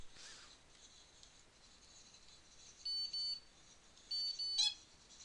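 Short electronic beeps from an alarm in The Classroom 3 game: two pairs of high, clean tones, quiet over a faint background, with a brief click between them.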